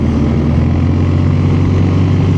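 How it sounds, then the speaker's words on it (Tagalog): A Triumph Tiger 850 three-cylinder motorcycle engine runs nearby with a loud, steady, dense drone and a deep low hum, continuous and without pauses or speech. "Ito meron tayo sa harapan na Triumph Tiger 850. Ang ganda ng tunog 3-cylinder."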